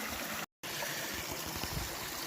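A creek runs in a steady, close rushing flow, broadband and continuous apart from a brief cut near the start, with no voices.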